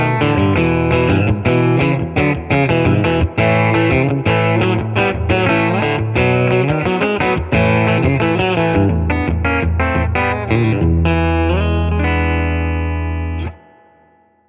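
A Fender Acoustasonic Player Telecaster electric guitar playing a loud, bright, driven passage of quick notes and chords, ending on a sustained chord that fades out.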